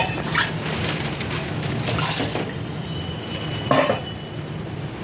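Water poured into horse gram flour in a pot, a low splashing wash with scraping, stirring clinks of a utensil against the vessel, close and moderately loud.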